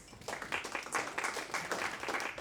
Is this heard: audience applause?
yes